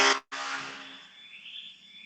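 An alarm sounds loud and alone, a steady bright electronic tone that cuts out for a moment near the start, then resumes and slowly fades.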